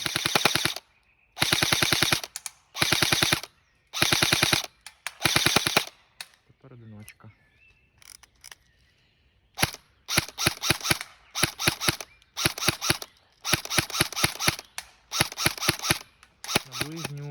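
Rapid bursts of full-auto fire from an SA-FX01 Flex X-ASR airsoft submachine gun, each a quick rattling string of shots, repeated many times with short pauses and a brief voice in between.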